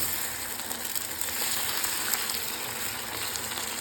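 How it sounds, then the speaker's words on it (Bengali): Continuous crackling sizzle of garlic and egg frying in a hot pan, steady and close, with no voices. "এই যে সব গার্লিকগুলো এখানে ভাজা হচ্ছে"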